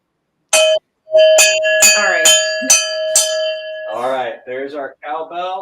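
A cowbell struck several times in quick succession, bright metallic clanks ringing over a sustained tone, followed by people talking briefly afterward.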